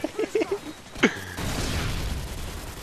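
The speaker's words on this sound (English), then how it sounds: "Grenade." A grenade goes off in the video game Call of Duty: Modern Warfare 2: a sharp, close crack follows a few brief voice sounds, then a loud, sustained roar of blast noise fills the rest of the moment.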